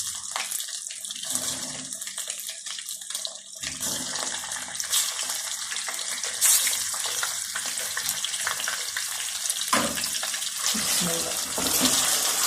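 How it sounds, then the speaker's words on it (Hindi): Chicken pieces going into hot ghee with fried ginger and garlic give a steady, loud broadband sizzle throughout, with sharper bursts around the middle and near the end as more pieces hit the pan. "अब मैं चिकन डालने लगी हूँ।"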